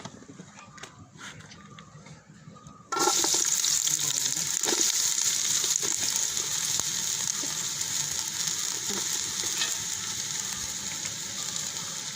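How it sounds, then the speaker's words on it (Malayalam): Onions hit hot ghee for a Kerala-style chicken biryani, bursting into a loud, close sizzle a few seconds in that then holds steady with occasional stirring scrapes. "നമുക്കതിന് നെയ്യ് ഒഴിച്ച് ഉള്ളി വഴറ്റിയെടുക്കാം."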